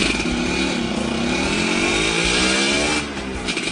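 Motorcycle engine running loud and close, a buzzing rasp with rising and falling revs, easing off briefly near the end.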